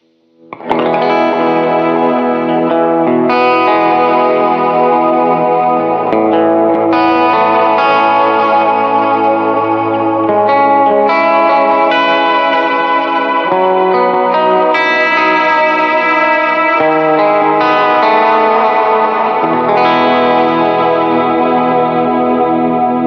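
Electric guitar played through a pedalboard with a vibrato effect engaged, sustained wavering chords and notes ringing continuously and loud, with a warm modulated shimmer and no talking.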